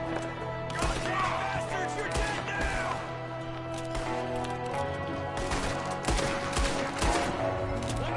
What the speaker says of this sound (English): Now shoot up the house.